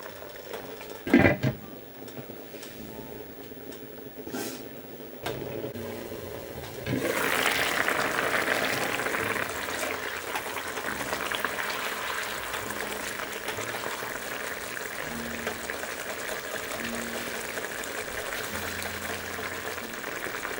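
Eggplant and potato stew with added water comes to a boil in a covered pot, a steady bubbling hiss that rises suddenly after a few soft knocks and then continues evenly.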